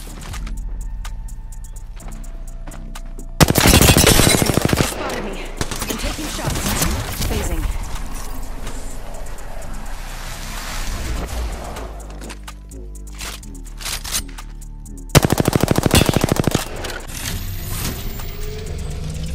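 Two short, loud bursts of rapid gunfire in an Apex Legends-style shooter, a few seconds apart, set among a busy mix of game effects and clanking mechanical sounds.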